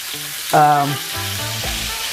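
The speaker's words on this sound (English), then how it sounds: "We're gonna cook it on each side for about 3 minutes per side, or to your likeness." A burger patty seasoned with salt and pepper fries in a hot pan for a keto bunless burger, with a steady close sizzle and a brief louder burst of crackling partway through.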